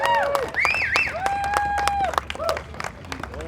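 A protest crowd claps and cheers at the Alamo during an eminent domain rally, with dense scattered clapping, rising whistles and shouted voices close by.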